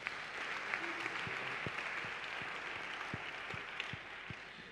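A church congregation applauds Jesus Christ during a worship service, with steady, fairly soft clapping from many hands. A few louder individual claps stand out now and then across the whole stretch.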